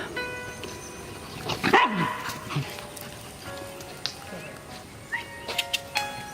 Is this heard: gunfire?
no